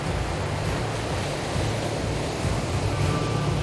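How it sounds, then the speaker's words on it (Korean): Rough Indian Ocean surf off the coast of South India roars as a constant, loud wash of breaking waves, with no voices over it. "평상시와 달리 파도가 거세 위험한 상황."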